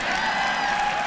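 An audience at a school district event applauds steadily, a dense, even wash of clapping heard close and loud for about a second.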